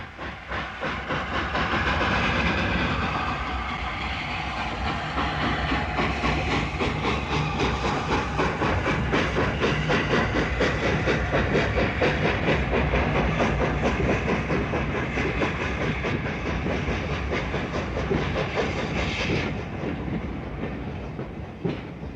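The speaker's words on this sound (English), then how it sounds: "the Class 31 diesel pushed from behind, and the train slowly moved" A train rumbles along slowly and steadily with rhythmic clanking and wheel noise, pushed from behind by a British Rail Class 31 diesel locomotive droning underneath, with no talking.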